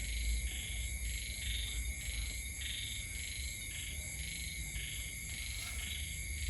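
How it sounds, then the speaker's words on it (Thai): Dense chorus of frogs croaking and crickets trilling steadily throughout, a continuous outdoor night ambience during rainy weather with no talking. "ได้ยินเสียงกบเสียงเขียด"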